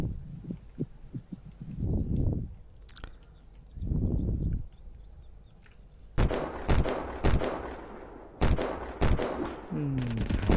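Gunfire in the video game Unturned: sharp, spaced single shots and short bursts cracking out at irregular intervals, some close and loud, over low rumbling background noise, with a voice talking between the shots.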